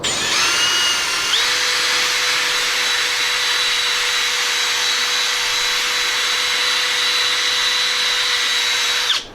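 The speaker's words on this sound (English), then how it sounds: "So all I'm doing here is real light, just a scuff and a clean." Paint on a Jeep Cherokee XJ side molding is lightly scuffed and cleaned, giving a loud, steady power-tool whine that holds a constant pitch for nearly the whole stretch, with no talking.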